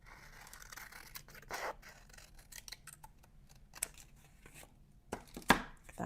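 Scissors snipping through paper at a craft table during gel-print collage work, a run of sharp close cuts and rustles that ends in a louder final snip.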